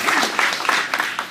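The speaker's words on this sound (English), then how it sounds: "Let's give them all a little bit of applause." Brief burst of applause from attendees at a chamber of commerce meeting, fairly loud, with individual claps standing out in a quick, uneven patter that carries on for a moment.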